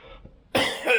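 A single harsh cough from someone who is ill with a fever and cough, a sudden loud burst after a brief quiet moment.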